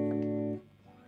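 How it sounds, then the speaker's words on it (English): Gretsch G5120 hollowbody electric guitar with a Bigsby vibrato, pedals off and reverb on, sustaining a chord whose pitch wavers gently before it fades out after about half a second, heard alone and fairly close. "Bixby's, I love them just to give this little bit of a nice wobble."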